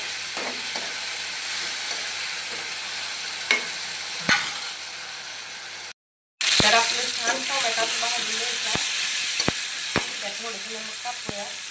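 Peanuts and tomato being roasted in a pan for chutney, a steady frying sizzle with intermittent stirring clicks and scrapes, briefly cut to silence before the sizzling resumes louder.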